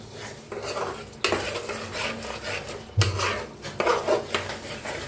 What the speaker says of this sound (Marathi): मस्त छान असा मसाला भाजलेला आहे.